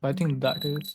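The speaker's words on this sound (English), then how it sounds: "That was my alarm." A thin, high electronic alarm tone starts partway through and keeps sounding under someone talking close to the microphone.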